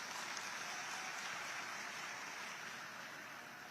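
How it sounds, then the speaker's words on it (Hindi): Steady applause from a crowd welcoming a guest onto a stage at a public gathering, a dense, even wash of clapping heard from some distance and fairly faint, with no one talking over it. "इनका जोरदार ताली से हम सभी लोग स्वागत करते हैं"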